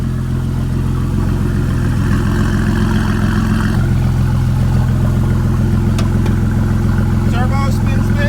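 A twin turbo Camaro engine idles with a loud, steady, throbbing rumble, and its pitch shifts slightly midway. A person talks over the engine.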